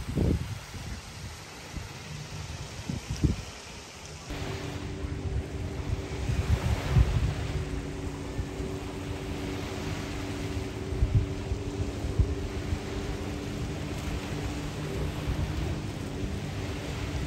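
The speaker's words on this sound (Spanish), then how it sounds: "Está corriendo mucho viento." Strong wind by the sea at San Carlos, Sonora, roars and buffets the microphone in a constant, loud rumble with gusts, and a low engine-like drone underneath after the first few seconds.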